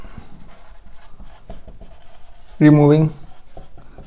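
Steady scratchy writing on a board runs through a classroom biology lecture, close and continuous under a teacher's voice, with one short spoken word breaking in near the end.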